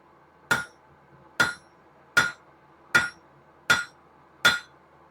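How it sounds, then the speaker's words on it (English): Hot steel wolf-jaw tongs struck with a hammer on an anvil edge, six sharp ringing blows at an even, unhurried pace with quiet between each, close and loud. "we're going to hammer diagonally along the edge, the close to me edge of the anvil"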